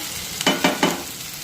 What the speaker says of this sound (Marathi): आता 2 मिनिटे हा बटाटा या मसाल्यामध्ये परतून झाल्यानंतर